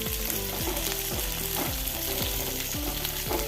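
Sliced green chillies, capsicum, square-cut onions and ginger fry in hot oil in a pan for chilli chicken, a loud continuous sizzle with rhythmic stirring strokes, close up and free of talk.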